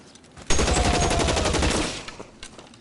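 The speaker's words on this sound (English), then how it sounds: "You joker out here shooting with a Thompson." A Thompson submachine gun fires a long, loud, rapid burst of about a second and a half in a 1940s Los Angeles crime game, then stops, leaving a few faint trailing sounds.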